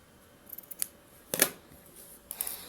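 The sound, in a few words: scissors cutting thread off hem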